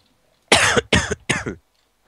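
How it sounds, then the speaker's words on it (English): A person coughs three times in quick succession, close to the microphone and loud, with silence before and after. "Please excuse my coughing."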